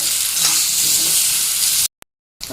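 Pumpkin frying in a pan with salt and turmeric, a loud, steady close sizzle with light stirring that cuts off abruptly into silence before briefly resuming.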